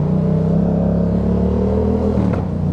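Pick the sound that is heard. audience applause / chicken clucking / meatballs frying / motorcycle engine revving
motorcycle engine revving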